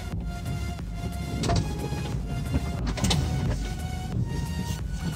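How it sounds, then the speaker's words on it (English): The power window of a Honda CR-V hums as it moves inside the cabin, with an electric motor whine that rises and falls over several seconds above the steady low rumble of the car. "Let's open the window."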